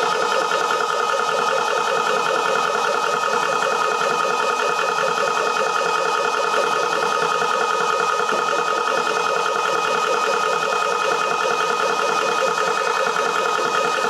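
A Rambo 6000P air compressor runs steadily at close range, a loud continuous mechanical drone with a fast pulsing motor rhythm that holds unchanged throughout with no pauses.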